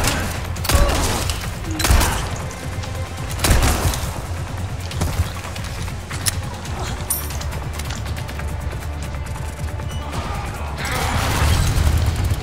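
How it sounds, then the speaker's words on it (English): An explosive weapon detonates on impact in the Resident Evil 4 remake's Separate Ways DLC, with several sharp booming blasts and crashes amid clattering gunfire and game action, loud and busy throughout. "Oh damn, that explodes on impact."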